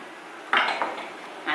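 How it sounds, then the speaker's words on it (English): A small metal seasoning pan is lifted and set down on a stovetop, giving a short bright clank followed by a fainter metallic knock, close and alone. "I'm just going to take a seasoning pan like this."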